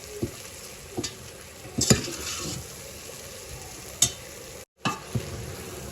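Hand-broken potatoes are stirred into a masala in a pan, giving a low sizzle under scattered scraping and clinking strokes of a spoon against the metal, with a brief drop to silence near the end.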